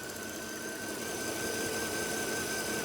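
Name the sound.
2010 Mercedes S 550 4MATIC engine idling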